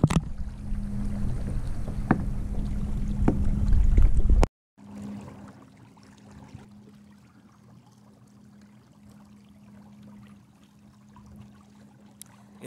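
Small kayak pushed along by a Watersnake T24 electric trolling motor running on a 20Ah LiFePO4 battery, a steady low motor hum with water wash, louder and busier for the first few seconds, then quieter and even with faint splashing.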